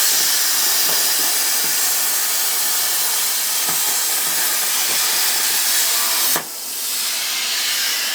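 A plasma cutter slices through copper washers with a loud, steady roaring hiss that cuts out sharply near the end, leaving a softer hiss behind.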